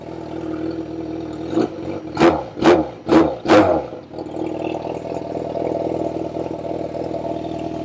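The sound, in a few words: Yamaha FZ6R motorcycle engine idling and throttle blipped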